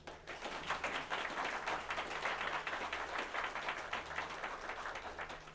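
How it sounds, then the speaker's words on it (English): Faint, steady applause for the finalists at a tournament, a crowd clapping continuously throughout. "Let's give a round of applause to both our finalists here."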